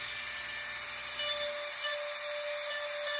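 A power carving tool undercutting a wooden sandpiper beak gives a steady high-pitched whine with a faint gritty edge, continuous and close throughout.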